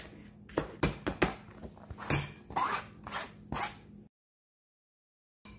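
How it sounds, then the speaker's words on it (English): Leftover onion being chopped with a knife on a cutting board: a handful of close, crisp cuts and thuds over about four seconds, then silence. "I'm going to just chop the rest of it up and put it in there."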